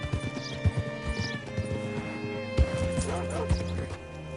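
Horse hooves clip-clop in Red Dead Redemption 2 as a horse walks and slows to a stop, with steady, fairly close hoofbeats over sustained game music tones.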